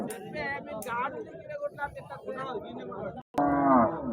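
Two large Jersey cows at the weekly Husnabad livestock market low with drawn-out moos, the loudest near the end, over a busy murmur of people talking close by.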